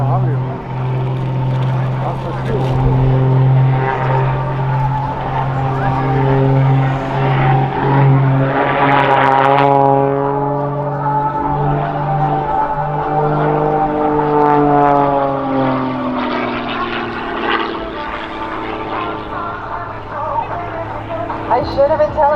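An MXS aerobatic propeller airplane flies an airshow display, its engine droning loud and steady with rising and falling pitch as it maneuvers overhead, while an announcer talks over it.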